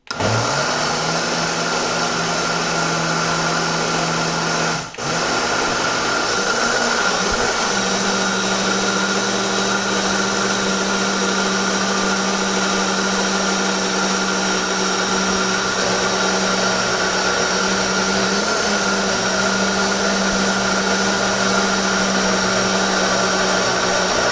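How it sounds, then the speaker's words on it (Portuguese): A blender mixing carrot cake batter runs loudly and steadily throughout, a constant high-pitched motor whir with a brief dip near the start, no voices. "Aí você vai colocar no liquidificador e bater mais um pouquinho."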